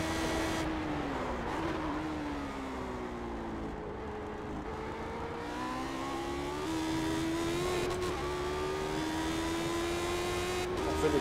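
A Lotus 79 race car in iRacing revs hard and climbs through the gears, its engine pitch rising and dropping with each shift, loud and continuous and close, with no other sound on top.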